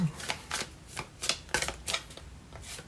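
Tarot cards being shuffled and drawn during a reading, with soft rhythmic riffling and flicking of card stock repeated several times at close range.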